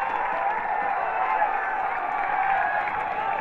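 A home crowd at a Canale Cup semi-final football match between Taringa Rovers and Logan FC cheers and claps in a steady, dense roar at a distance, with a commentator talking over it.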